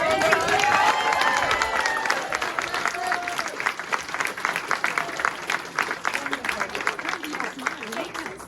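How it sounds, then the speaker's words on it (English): A press conference audience at a Belle Vue versus Wolves speedway event gives a big round of applause, dense clapping that thins into scattered claps as a voice speaks over the start. "let's have a massive, massive round of applause for"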